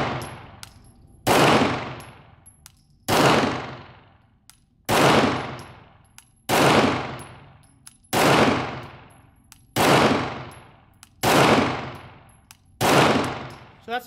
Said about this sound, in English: So that's a couple rounds through it